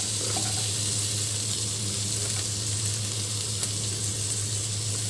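Chopped garlic, onion and a chili go into chicken frying in a pan, giving a steady, close, loud sizzle that hisses evenly throughout without talk.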